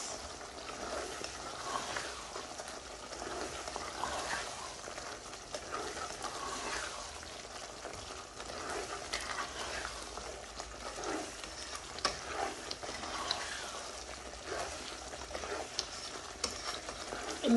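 Lamb karahi sizzling and frying in a pan while being stirred after black pepper and garam masala are added, a soft continuous hiss with repeated scraping strokes, no talking.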